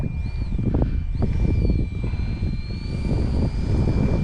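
A Carbon Z Cub RC model airplane passes overhead, its electric motor and propeller a steady, whining drone with shifting pitch, heard outdoors over constant wind rumble and no speech.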